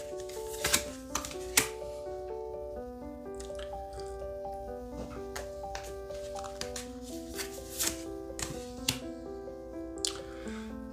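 Tarot cards being shuffled and drawn by hand, a few soft flicks and slaps of card stock standing out over steady background music.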